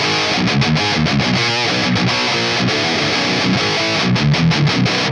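Heavily distorted baritone electric guitar through a V30 speaker, miked with SM57s, plays tight palm-muted chugs and chords, loud and upfront with a dense, saturated modern metal tone.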